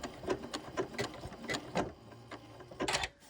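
A sewing machine runs a buttonhole stitch around an appliqué in matching thread, stopping often to pivot. The stitching comes in short, close, rhythmic bursts separated by brief pauses.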